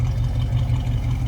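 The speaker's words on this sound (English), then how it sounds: "Nothing over the top, no crazy exhaust, but just a nice throaty little rumble." A 1967 Chevrolet Camaro RS Convertible rumbles at idle with a steady, deep, throaty exhaust note heard up close and without speech.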